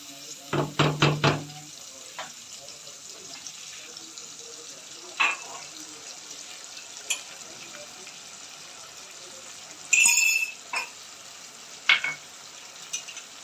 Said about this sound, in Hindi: इसको खूब चमचा लाएंगे ताकि इसकी गुठली ना बन जाए।